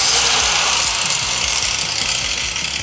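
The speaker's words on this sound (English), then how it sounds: "Let's see how it does, you know, just grinding. So I got a piece of stainless tube in here." A compact angle grinder bites into a stainless steel tube with a loud, steady, unbroken whine under a rough motor drone, and no voices.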